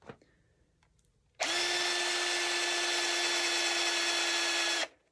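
A power drill bores into a block of oak, black walnut and maple, whining steadily and loudly for about three and a half seconds after a few faint taps, then stops abruptly.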